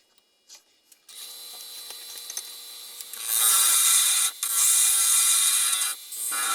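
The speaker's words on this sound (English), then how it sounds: "We're just going to drill a 1/2 inch hole on this side." A power drill whirs into wood, boring a 1/2 inch hole in a wood-turned Christmas ornament, starting with a few light taps, then a steady loud grinding bore that pauses briefly before continuing.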